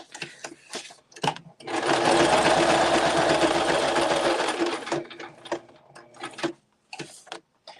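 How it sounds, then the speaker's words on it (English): A sewing machine stitches a junk journal cover in one sustained, loud, close run of rapid needle clatter lasting a few seconds, flanked by scattered clicks and handling knocks. "I think I'm going to sew this to the top."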